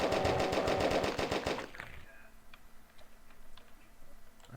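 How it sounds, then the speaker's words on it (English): Rapid machine gun bursts from a Unity video game, an evenly spaced fast rattle lasting about two seconds before cutting off, followed by quieter scattered game clicks. "Change the sound effect for the machine gun."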